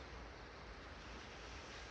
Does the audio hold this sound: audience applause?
no